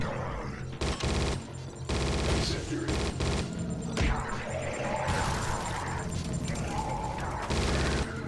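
Machine gun fire in the Judge Dredd vs. Death video game, loud bursts and crashing impacts packed densely across the whole stretch, with game effects layered on top.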